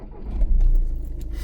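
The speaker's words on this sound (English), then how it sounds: "I'm going to start my engine" A Volkswagen car engine cranks and catches, settling into a steady running rumble, close by with a faint jangle of keys.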